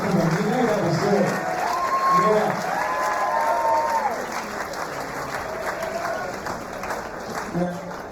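Steady crowd applause rolls through the venue at a fight event, continuous clapping with scattered cheers while an announcer's amplified voice talks over it.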